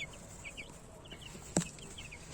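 Small Ross 308 broiler chicks peep softly and repeatedly in a quiet indoor space, with one brief sharp knock partway through.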